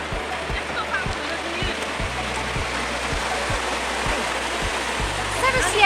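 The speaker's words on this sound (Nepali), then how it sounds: "खतरा पानी परिरहेको छ।" Heavy rain pours steadily outdoors near a café at Bindu, a dense, continuous hiss with a faint rhythmic low thumping underneath throughout.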